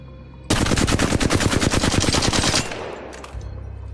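A full-auto heavy-round weapon in Apex Legends fires one loud, rapid burst lasting about two seconds, with sharp, evenly spaced shots up close and a short fading tail afterward.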